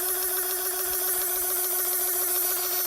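A cheap six-dollar smoke machine from China running: a steady, loud electric hum with a droning tone that stays constant throughout, heard close with no talk.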